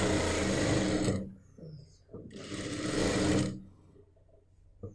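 A sewing machine stitches the neckline of a churidar top converted from an old dupatta, in two loud bursts of rapid, even clatter separated by a short quiet pause, with soft handling noises between runs.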